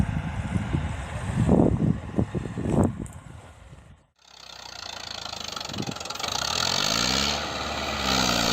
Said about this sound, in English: A Massey Ferguson MF 175 tractor loaded with timber struggles to cross a muddy, snow-covered forest road.